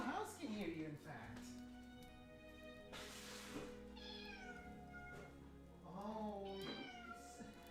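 A pet cat meows insistently for food indoors, several drawn-out, wavering meows close by, mixed with a person's voice talking over and around them and a steady air-conditioner hum underneath.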